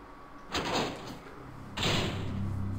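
Two heavy doors swing open in the Devil May Cry game, each a loud whooshing slam-like burst with a low rumbling tail, spaced about a second apart.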